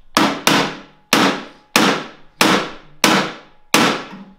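A wrench is struck hard against the lock of a locked storage box found in an abandoned storage unit: seven loud metallic bangs at a fairly steady pace, each ringing out briefly, very close, with no voices.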